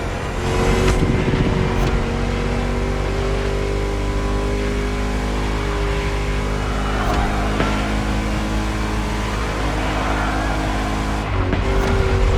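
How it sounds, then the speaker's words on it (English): A Ford Mustang V8 in the racing game The Crew Motorfest rumbles loud and steady throughout, a deep chunky engine drone with harmonic layers, briefly dipping near the end before picking back up. "Just listen to that V8 like a chunky,"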